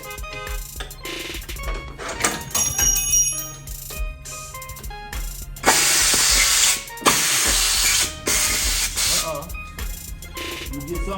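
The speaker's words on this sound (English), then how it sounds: "Not impact, but a air wrench here." An air wrench hisses in loud bursts of compressed-air blast during work on an LS swap engine in a garage, starting and stopping several times, with metallic jingles between runs and a voice speaking at times.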